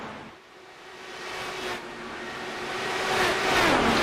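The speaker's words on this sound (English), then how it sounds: "We'll just listen to the beautiful noise of these Indy cars for a second." IndyCar race cars roaring around the oval at Iowa in iRacing, a steady, sustained engine drone that swells louder toward the end, with no talk over it.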